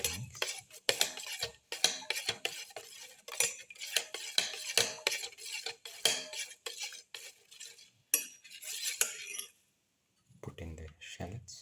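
Omelette ingredients with black pepper and fenugreek greens are mixed in a bowl with a utensil, producing rapid clinking and scraping in bursts, a short pause near the end, then a final few strokes.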